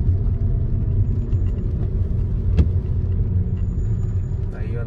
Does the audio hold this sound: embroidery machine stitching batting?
no